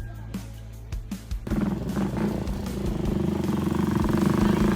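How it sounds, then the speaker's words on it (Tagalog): A motorcycle engine grows louder and more steady as it approaches, a low rumbling drone building after a few faint knocks at the start. "Yan na, may naririnig na akong motor."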